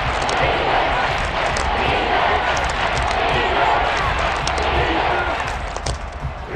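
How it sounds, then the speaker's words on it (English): Football stadium crowd cheering and roaring in a broad, steady wall of noise that fills the whole stretch and eases slightly toward the end. "Crowd getting in it a bit already."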